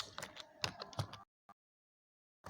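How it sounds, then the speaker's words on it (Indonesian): Quick clicking of keys as a name is typed on a computer keyboard, a brief flurry of close, soft taps followed by silence and a couple of isolated keystrokes. "namanya di sini saya ketik Gom-Gom"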